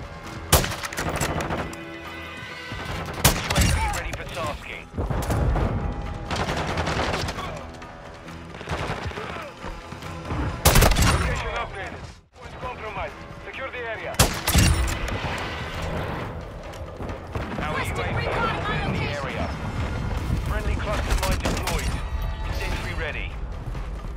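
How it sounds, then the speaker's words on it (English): Rapid bursts and single shots of gunfire in the video game Call of Duty: Modern Warfare 2, from an SA-B 50 rifle fitted with a muzzle attachment, layered with explosions and busy in-game sound throughout. "They're shooting at me."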